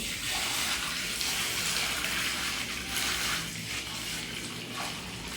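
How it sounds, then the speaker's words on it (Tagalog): Water is poured steadily into a sand and cement mix prepared for wall plastering, producing a continuous close gushing splash that holds at an even level for several seconds with no talk over it. "lagyan natin ng tubig"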